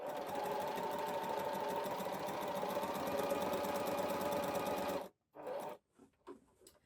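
A sewing machine runs a steady, fast stitch through a single layer of sleeve fabric along marked slit lines, then stops abruptly near the end, followed by a couple of short bursts of stitching.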